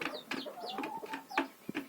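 Dwarf hens in a village yard give soft, short clucks and quick chirping calls in an uneven run, fairly close and quiet, with no talking.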